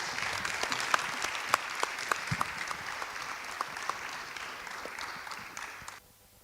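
Applause from an audience at a conference fills the room with dense, even clapping and a few sharper individual claps, then cuts off abruptly near the end.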